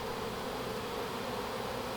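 A dense, steady hum of honeybees swarming over frames of brood, syrup and pollen in a newly established hive, close and continuous with no talking.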